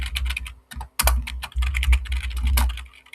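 Close, fast typing on a computer keyboard while writing code: clusters of loud, clicky keystrokes in uneven bursts with short pauses between, and no talking.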